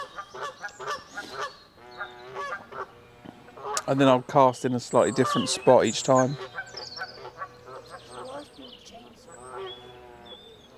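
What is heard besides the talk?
geese honking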